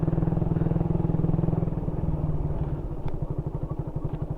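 A motorcycle rides along a road with a steady, close engine drone and a rhythmic low pulse that eases slightly partway through, with no talk over it.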